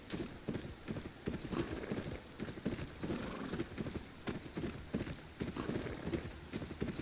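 Horse hooves clip-clop in a steady rhythmic gait across a hard surface in the fantasy video game Kingsroad, the regular hoofbeats continuing at a moderate volume with no talk over them.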